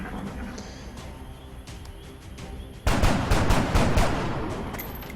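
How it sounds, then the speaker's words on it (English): Overwatch gunfire in the XCOM video game, a sudden loud burst of rapid shots midway that rattles on and slowly fades under a constant game background, with no talking. "we are taking the chance of 2 overwatch shots from full cover."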